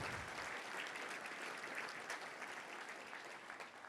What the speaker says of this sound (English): Let's give all of our volunteers a big round of applause.